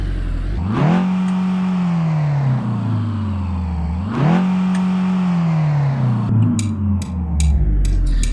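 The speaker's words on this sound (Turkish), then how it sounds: "Tabi motor sesi orijinal değil." A 1993 Tofaş Doğan SLX engine in Euro Truck Simulator 2 revs up twice with rising, sustained whine, each rev settling and falling, followed by a few sharp clicks near the end.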